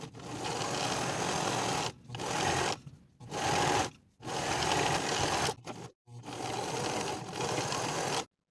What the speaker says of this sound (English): you can choose to top stitch from the right side, catching that seam allowance in your stitches